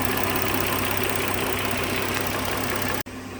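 A 2010 Dodge Journey engine idles smoothly without misfiring, a steady close mechanical hum with even low rumble and faint ticking, running alone before cutting off abruptly near the end.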